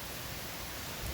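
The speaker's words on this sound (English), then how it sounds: "Well, it is raining," Steady hiss of rain falling during Hurricane Ian, a broad, even wash of noise with a low rumble of wind underneath, continuous and fairly faint throughout.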